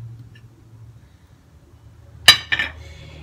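A spoon clinks against a bowl while a tablespoon of maida flour is measured out for a face mask, one bright metallic strike followed by a lighter double tap after a quiet stretch.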